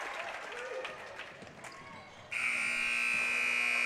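A loud, steady electronic buzzer sounds at the end of a quarter in a high school boys basketball game, cutting in sharply after crowd noise and holding on continuously.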